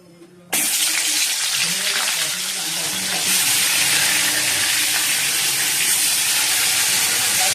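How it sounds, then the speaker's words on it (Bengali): Fish rubbed with salt and turmeric hits hot oil in a wok: after a brief quiet moment, a loud, steady hissing sizzle bursts in and keeps going without a break. "মাছ নুন আর হলুদ মাখিয়ে নিয়েছি কড়াইতে তেলও বসিয়ে দিয়েছি ঠিক আছে চলো ভেজে নিয়ে এবার"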